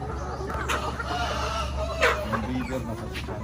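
Chickens clucking at a gamefowl farm, a few close clucks and calls over a busy outdoor background with a voice speaking briefly.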